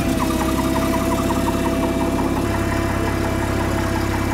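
A generator unit's engine runs steadily at a loud, constant idle with an even mechanical hum, and its pitch drops slightly partway through; no voices are heard.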